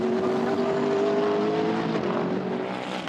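A Bentley race car in an endurance race at Silverstone sweeps past with a steady, loud engine note, its pitch sliding gently downward over about three seconds amid continuous track noise.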